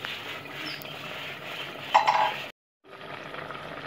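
A lid lifts off a pan of simmering Kerala-style fish curry with a short metallic clink over a steady bubbling hiss. The sound then cuts to brief silence before the hiss returns.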